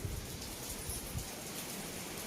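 Steady rain hisses outside, a constant wash of noise with soft low thumps, no voices.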